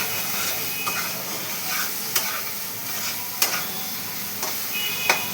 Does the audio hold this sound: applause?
no